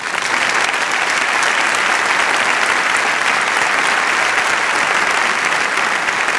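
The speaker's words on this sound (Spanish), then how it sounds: "Doctor, le da unos aplausos para ellos." Dense, loud applause from a concert audience in an auditorium, a continuous roar of many hands clapping without pause for several seconds.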